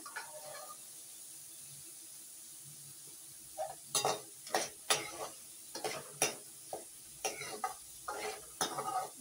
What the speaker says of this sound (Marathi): आता याच्यात मी कांदा टाकणार भाजायला. छान कांदा परतून घ्यायचा.